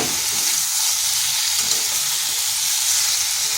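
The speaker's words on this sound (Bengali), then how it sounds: "এটাকে কিন্তু এইভাবে কষে কষেই রান্না করতে হবে" Pumpkin fries in a pan over medium heat for a vegetarian dish, giving a steady, close hiss of sizzling oil that carries on evenly with no talking.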